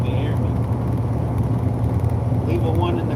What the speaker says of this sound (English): y'all might hear nothing but engine right now